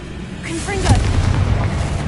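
In the video game Hogwarts Legacy, a quick Confringo spell explosion bursts with a short, booming thud, loud and close, alongside a voice.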